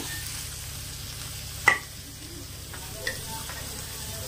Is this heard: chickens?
no